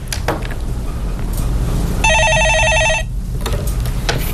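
A telephone rings on a Korean stock-market call-in broadcast: one loud electronic ringtone burst lasting about a second in mid-clip, with a faint room background before and after and no talking.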